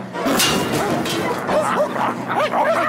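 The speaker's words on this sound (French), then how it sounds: "les chiens sont sortis de leur cage!" Several cartoon dogs in Garfield and Friends bark and yip in quick, overlapping bursts, loud and close, with whimpering, excitable cartoon-style yelps.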